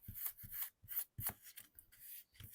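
A magic eraser rubs leftover adhesive tape off paper in short, quiet, scratchy strokes, about half a dozen in quick succession, close up with no talking.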